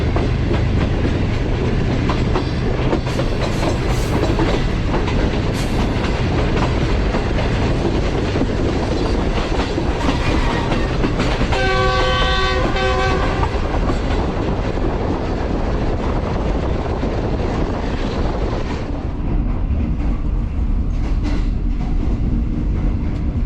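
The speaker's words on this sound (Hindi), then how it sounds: "इसलिए स्लो गुजर रही है ट्रेन मेन लाइन से" A Green Line passenger train rolls slowly along the main line near Lala Musa Junction, its steady wheel rumble and clickety-clack continuous throughout, with a brief burst of metallic squeal or horn-like tones around the midpoint.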